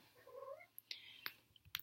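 A female house cat in heat gives a rising, drawn-out yowl, followed by several brief sharp clicks and knocks; quiet and close, with no talking.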